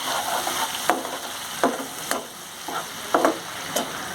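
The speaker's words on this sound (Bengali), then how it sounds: "দিয়ে দেবো হলুদের গুঁড়ো, দিয়ে দেবো চিনি, দিয়ে আমি মশলাটা ভালো করে কষিয়ে নেব।" A spice paste with turmeric and sugar is sautéed in a pan for a Bengali rui fish curry. Gentle, continuous sizzling is broken by a handful of sharp spatula scrapes against the pan. No one speaks.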